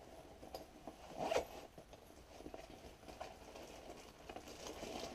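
A zipper on a camera bag pocket is pulled in a quick, quiet rasp, with faint handling rustles before and after in a quiet room.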